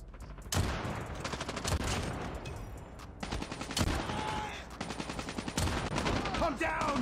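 Call of Duty Mobile gunfire crackles in rapid automatic bursts and sharp shots, loud and nearly continuous over several seconds, with faint game noise between bursts.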